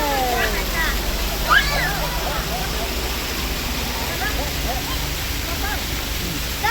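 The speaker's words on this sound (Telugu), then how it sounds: "వాటర్ ఫాల్స్ వస్తున్నాయి, వాటర్ బాగా పడుతున్నాయి" Waterfall swollen after heavy rain, a steady broad rush of falling water filling the scene throughout, with voices talking over it at moments.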